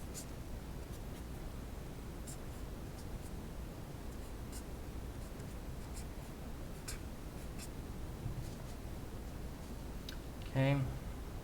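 Equations are written out with a pen during a physics explanation, producing faint scratchy strokes and light taps over low background hiss, with a brief voice sound near the end.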